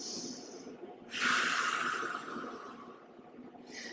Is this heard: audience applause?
no